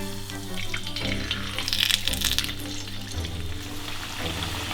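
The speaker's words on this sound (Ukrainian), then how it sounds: "Смажити картоплю будемо у фритюрі." Steady, dense sizzling of potato fries deep-frying in hot oil in a deep fryer, crackling continuously at close range with a low hum underneath.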